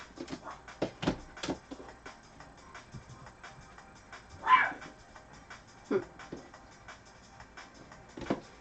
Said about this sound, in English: Alfred is up there barking at the neighbors.